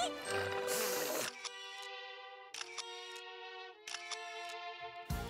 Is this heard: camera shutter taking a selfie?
yes